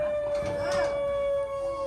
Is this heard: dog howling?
yes